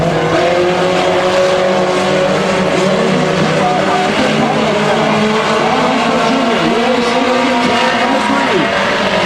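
Race cars circle a speedway track with a loud continuous engine roar and shifting whine of several cars, while an announcer talks over the sound throughout.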